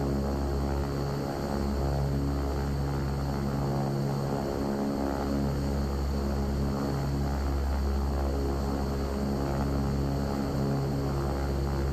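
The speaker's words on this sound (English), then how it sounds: "When you're taxiing in this aircraft, you don't need any throttle, really." A steady, droning turboprop whine and hum from a King Air 350 taxiing at low throttle in the X-Plane 12 flight simulator, heard continuously and fairly loud with no speech.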